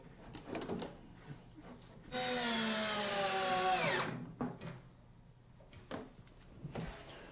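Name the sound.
screwing hinges onto a wooden telescope box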